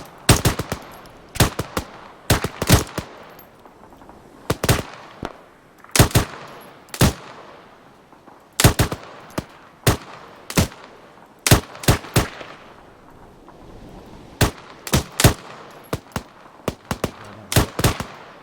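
Fire team gunfire in ArmA 3, rendered as sharp, loud shots in irregular bursts and single cracks spread steadily across the whole stretch, with no talking over them.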